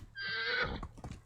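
A horse in Medieval Dynasty lets out a single loud, close whinny, followed by a few short snorting and stepping sounds.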